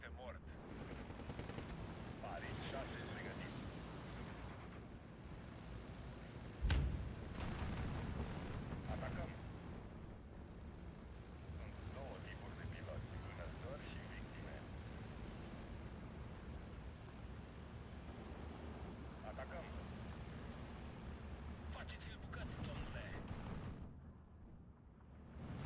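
Aircraft strafing and explosions in the World War II strategy game Steel Division 2: a low, distant rumble of battle with scattered gunfire and one sharp, heavy blast partway through, all fairly quiet, with faint talk underneath.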